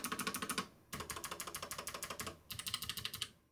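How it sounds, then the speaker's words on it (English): Fast typing on Gatron KS33 low-profile blue clicky keyboard switches on a Raspberry Pi 500+ keyboard, with crisp rhythmic clacks in three quick bursts separated by brief pauses, close and clear. "I love the way these blue switches sound. Again, we've got the Gatron KS33 low-profile blue switches."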